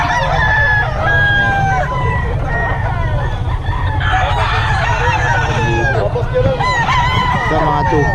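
Several roosters crow repeatedly among clucking fowl at a busy gamefowl selling spot, long harmonic calls overlapping one another over steady low background noise, loud and close.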